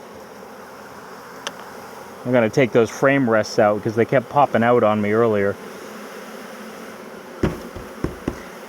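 Honey bees fly and fan around an empty hive box, their steady buzzing running throughout while someone talks in the middle stretch, with a few brief knocks near the end.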